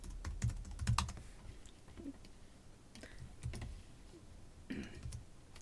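Someone types quietly on a computer keyboard. The soft clicks of the keys come in uneven bursts with short pauses between them, and no one speaks.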